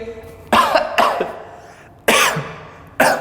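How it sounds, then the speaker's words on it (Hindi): Four sharp, forceful coughs in two pairs, close by and alone, with short pauses between them. "कई लोग ऐसे खांसते हैं"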